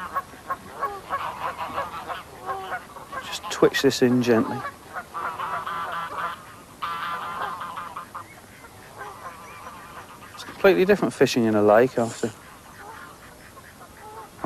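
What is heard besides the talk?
mallard ducks quacking and geese honking on a lake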